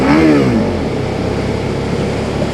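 A Suzuki SV650 motorcycle engine revs nearby, a sharp rising pitch at first that drops into a low, rough growl as the throttle closes and the bike runs on the overrun.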